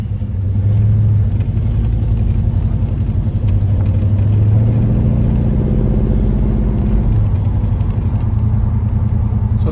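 A 1972 Chevrolet Chevelle on a test drive, its engine rumbling low and steady from inside the car, with slight rises in revs and constant road drone throughout, no voices.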